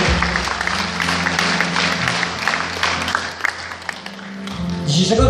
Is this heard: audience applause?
yes